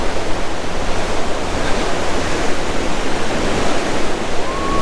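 Ocean surf at Silver Strand Beach, a loud continuous wash of breaking waves close by, with wind rushing over the microphone and no voices.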